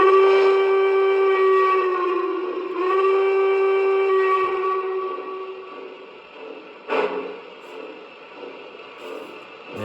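A Lionel 3005 L3A Mohawk model locomotive with a Pullmore motor runs with a loud, steady, high-pitched whistling whine that dips slightly and fades, with a sharp click near the end.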